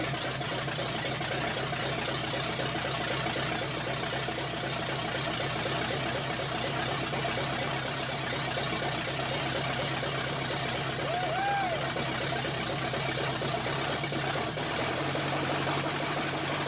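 An engine idles steadily with its choke held partly closed by a spring-tension rig instead of a choke cable, and the timing is set far too low; a continuous, close rumble runs throughout with no break.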